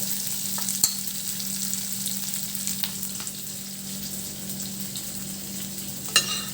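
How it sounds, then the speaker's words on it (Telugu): Tempering spices and small onions frying in hot oil for tomato dal, a steady close sizzle with occasional stirring clinks and no talk. "మనం ఇలా ఆయిల్లో వేసుకొని ఈ పోపు దినుసులు బాగా చిన్న ఉల్లిపాయలు అండి బాగా ఫ్రై అవ్వాలి."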